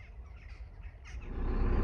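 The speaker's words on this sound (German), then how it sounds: "das sind, glaube ich, Möwen" Gulls call faintly in the distance at a riverside stopover near Plovdiv, Bulgaria, giving a few scattered squawks over a low, rising background rumble.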